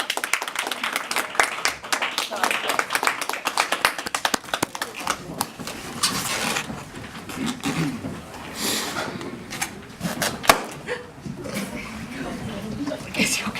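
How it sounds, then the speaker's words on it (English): An audience claps for a performer at a pre-bat-mitzvah gathering, a dense burst of hand claps in the first half that thins out, with people talking over and after it. "can we clap for Eliana?"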